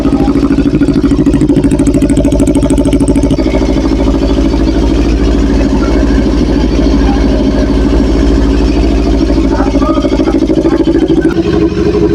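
A repaired engine runs at a steady idle, a loud continuous low rumble with an even rhythm that holds throughout, with no one talking over it.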